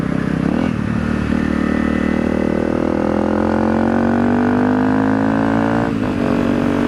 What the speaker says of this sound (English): Bike seems to run good.